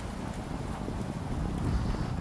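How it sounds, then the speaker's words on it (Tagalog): Strong wind buffeting the microphone in a constant low roar at the Great Wall, loud and unbroken throughout. "lakas ng hangin"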